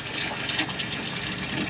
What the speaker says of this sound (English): you'll be able to flush with the blue button.